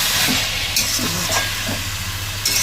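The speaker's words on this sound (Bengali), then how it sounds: "এবার একটু হালকা কষিয়ে, চিনি আর নুনে একটু কষিয়ে নেব।" Grated carrot being sautéed with sugar and salt in a pan for carrot halwa, a continuous close sizzle with soft scraping stirs at intervals and no talking.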